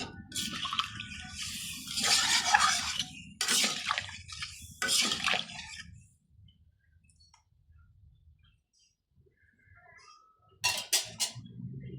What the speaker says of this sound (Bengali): এখন ঝোল দিলাম, একবারে একটু পাতলা ঝোল করব।